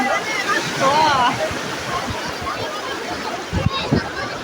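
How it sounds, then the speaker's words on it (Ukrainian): Wave pool water surging and splashing at the Kosino aquapark thermal resort, a broad steady wash of water with voices and bathers' chatter mixed throughout. "Так, зараз іде хвиля. І вони всі купаються, ловлять цю хвилю."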